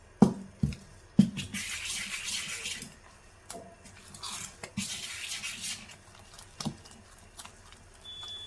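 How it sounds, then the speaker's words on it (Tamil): Fermented appam batter is stirred in a vessel. Quiet, intermittent scrapes and clinks of a utensil alternate with soft, sticky swishing bursts close by, with no talking. "இதை நம்ம கிளறிக்கலாம்."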